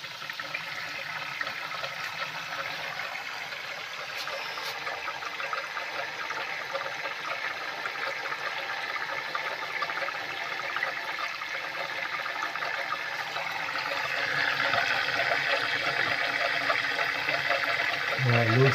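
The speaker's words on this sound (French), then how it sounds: "Voilà, l'eau circule." Water circulating inside a dishwasher being fully overhauled: a steady, muffled whooshing churn that grows gradually louder toward the end.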